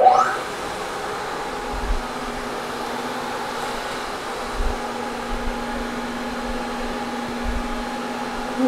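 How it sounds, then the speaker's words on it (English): A milling machine spinning at 1300 RPM takes a light skim cut on a workpiece held in a vise, giving a steady, even whine and hum with a few faint soft knocks underneath. "we'll start off with a light pass, maybe 10 thousandths or so"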